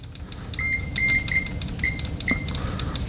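Continuity beeper of an ANENG AL01 cheap multimeter tested with its stock default leads, giving short, broken, stuttering beeps that cut in and out over several seconds, with no talking.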